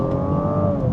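A Mazda CX-80's engine pulls hard under full throttle, a steady close-up drone with a smoothly rising pitch held for a second, no voices.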